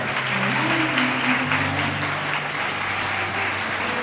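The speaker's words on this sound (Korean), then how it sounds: "따뜻한 박수가 필요합니다" Steady, dense applause from a wedding hall crowd, loud and continuous throughout, with a faint tonal hum underneath.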